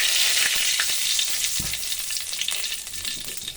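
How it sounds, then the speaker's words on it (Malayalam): Mustard seeds and curry leaves sizzle and pop in hot ghee while cooking old-style corn upma, a steady close frying hiss with sharp crackles and a thud from stirring, no talking. "കടുക് പൊട്ടി വരുമ്പോൾ നമുക്കിനി കറിവേപ്പിലിടാം."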